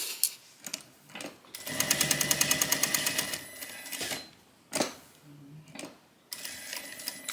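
A sewing machine back-stitches the pocket seam of a tote bag in quick rhythmic bursts of close mechanical stitching, with brief pauses between runs.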